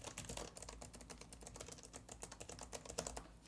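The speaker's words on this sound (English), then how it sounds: "It's like a mechanic keyboard and it feels a little hard to press on, to be honest." Rapid, steady keystrokes on the mechanical keyboard of an Alienware M18 laptop, each press a crisp click in a continuous close-up typing run with no voices.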